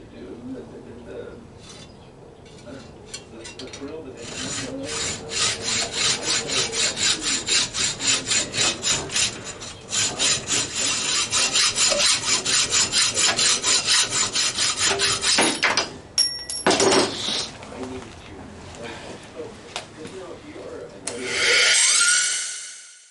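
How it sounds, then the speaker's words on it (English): A hacksaw cuts pieces off in fast, rhythmic back-and-forth strokes close by. The strokes go on for about fifteen seconds, then give way to a few clanks and handling noises, and a brief scrape ends it. "Just cutting them off with a hacksaw."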